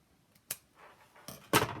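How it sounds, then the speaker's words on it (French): Scissors snip a small notch in fabric beside a folded zip while sewing the back of a garment, a few short, close crisp cuts, the last one loudest. "avec les ciseaux une toute petite encoche"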